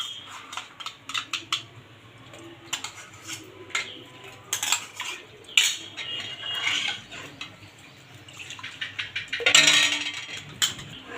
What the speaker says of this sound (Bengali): এবার এখানে সামান্য একটু করে দুধ দিয়ে আগে এর সাথে মিশিয়ে নেব ভালো করে, দুধের সাথে দইটা।